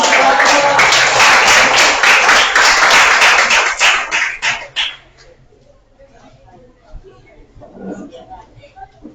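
Brief burst of classroom clapping after a student group presentation, loud and close for about four seconds before stopping abruptly, followed by quiet room noise with faint voices.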